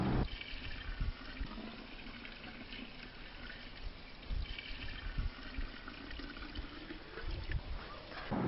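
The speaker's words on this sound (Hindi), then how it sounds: "अब 5 लीटर गौमूत्र भी इसमें मिला दीजिए।" Five liters of cow urine poured into a container already holding cow dung, a steady low splashing liquid stream lasting several seconds, faint and close, with no talk.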